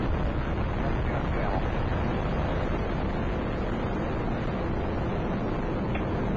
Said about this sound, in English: liftoff of Space Shuttle Atlantis